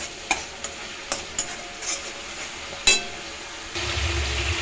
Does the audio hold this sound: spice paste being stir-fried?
yes